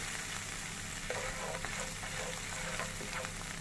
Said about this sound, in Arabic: نحمر الثوم مش ما نحمرهاش قوي، ده ثوم وعليه فلفل مطحون